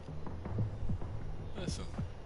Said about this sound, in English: Look at his heartbeat.